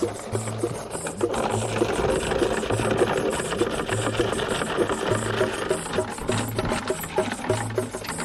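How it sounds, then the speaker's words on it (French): A small motor drones steadily throughout, with rhythmic pulsing and clattering as apples are fed into a shredding mechanism for juice. "les envoyer régulièrement dans la déchiqueteuse, alimentée elle-même par un petit moteur"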